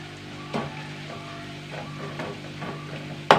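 Tempering for sambar curry sizzles steadily in a hot pan, a continuous frying hiss with a few soft stirring knocks and a sharp clink at the very end; no one speaks.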